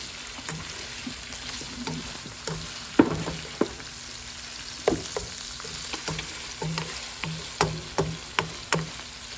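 Chicken livers frying in a pan, a steady low sizzle broken by sharp scrapes and clinks as they are stirred, close by with no talking.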